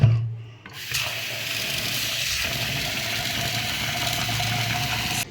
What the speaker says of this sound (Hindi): चलो धो लेंगे दाल को 2-3 पानी से अच्छा।